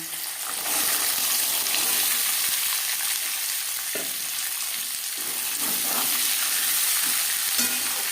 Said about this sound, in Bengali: পনেরো 20 সেকেন্ড 5 ফোড়ন ভেজে নেওয়ার পর দিয়ে দেব শিমের দানা।